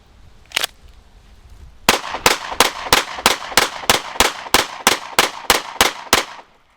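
A Mossberg MC2sc pistol, caked in bayou mud during a torture test, fires a full magazine: after one early shot come about fourteen sharp, evenly spaced reports in a steady rapid rhythm, loud and close, with no talking.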